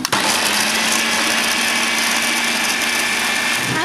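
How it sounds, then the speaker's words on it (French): A kitchen blender whirs steadily as it chops onions for an onion tart, a loud continuous motor drone with a sustained hum that runs unbroken through the whole stretch. "Alors pour commencer nous allons mixer les oignons."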